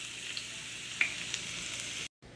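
Extra virgin olive oil sizzles steadily in a pan, a close, even hiss with a couple of small pops before it cuts off briefly.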